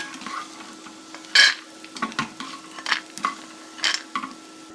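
Peanuts being stirred and fried in a pot, with a string of short scraping and clinking strokes over a soft steady sizzle, close and moderately loud.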